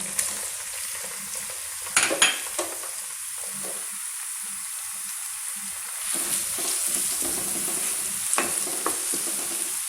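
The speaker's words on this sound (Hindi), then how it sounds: "इसको हल्का सा फ्राई कर लेंगे" Steady sizzling of garlic, ginger, onions and tomatoes frying in oil in a kadai, with occasional stirring scrapes and clatters; no voices.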